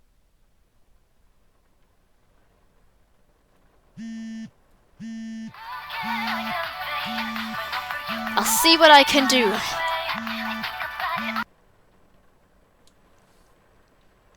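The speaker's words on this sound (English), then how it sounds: "Be silent, phone of mine." A mobile phone rings inside a video game, with a repeating electronic ring tone in short regular bursts overlaid by a brighter melodic ringtone, lasting several seconds before cutting off abruptly. A brief line of speech comes before the ringing.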